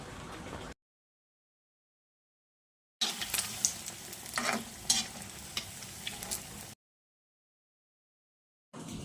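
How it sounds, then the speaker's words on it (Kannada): Breadfruit bonda coated in gram flour batter fries in hot oil, a close, busy sizzle full of crackles and sputtering pops that runs for a few seconds between stretches of silence, with no talking. "ಈಗ ಕಡ್ಲೆ ಹಿಟ್ಟಲ್ಲಿ ಮುಳುಗಿಸಿ ಇದನ್ನು ಫ್ರೈ ಮಾಡುವ"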